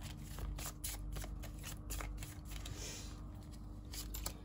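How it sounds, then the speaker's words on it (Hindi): Tarot cards being shuffled by hand, a continuous close riffling and flicking of card edges in repeated quick bursts over a low steady hum. "अभी मैं कार्ड्स को जरा सेट कर लेती हूँ।"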